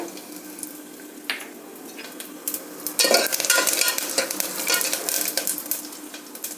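Crushed garlic, curry leaves, dried red chilli and cumin tempering in hot oil in a pan, a close crackling sizzle that grows louder halfway through, with stirring clinks and no talk.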